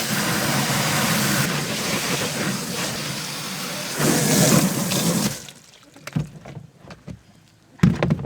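Water splashes and gushes into a container as it is rinsed out and filled on a farm, a loud rushing wash that cuts off midway, followed by scattered clunks and knocks.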